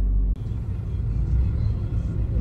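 Car interior in a slow traffic jam: a steady low engine rumble and road drone fills the cabin continuously after a brief cut near the start, with no talking.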